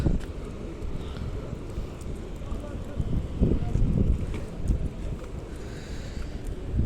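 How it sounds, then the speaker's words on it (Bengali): Steady rushing wind buffets the microphone with a low rumble that swells midway, continuous and close, with no clear speech. "হাওয়া খুব বেশি, অতিরিক্ত হাওয়া"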